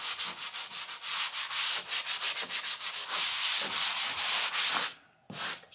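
Light, rhythmic sanding strokes rasp against a patched wall surface near a light switch box, quick and close, then pause briefly before one more stroke at the end.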